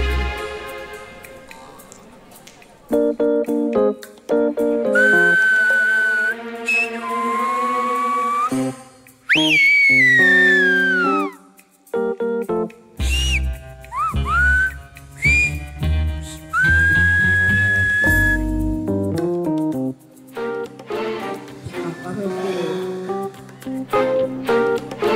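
A long stretch of whistled language performed on a talent show, with sliding pitches and short separate phrases, repeated in bursts with brief pauses, loud and close.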